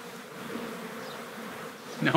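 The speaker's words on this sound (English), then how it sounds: "No wonder we got some bees in here." Honeybees buzz steadily up close at an opened hive with brood, a dense droning hum with a few louder passes near the end.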